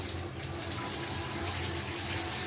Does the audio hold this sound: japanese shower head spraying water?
yes